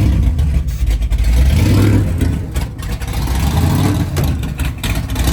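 A 1969 Camaro with a supercharged, fuel-injected big-block V8 on the road, a loud, deep, continuous engine rumble heard from inside the car, rising and falling slightly throughout.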